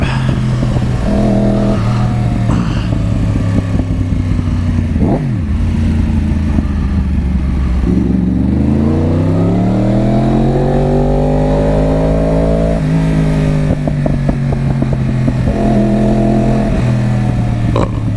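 A car engine, one of two muscle cars in a Corvette Stingray versus Mustang matchup, warms up with loud close revving, its pitch rising and falling in sustained sweeps alone without talk.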